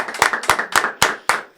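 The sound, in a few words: applause and clapping for a podcast guest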